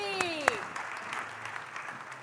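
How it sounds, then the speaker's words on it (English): Audience applause at a Parkinson's disease live discussion during a brain health summit, a short, moderate burst of clapping with a few sharper claps near the start. "Applause, guys, for Marie."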